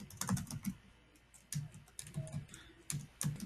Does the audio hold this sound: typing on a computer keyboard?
yes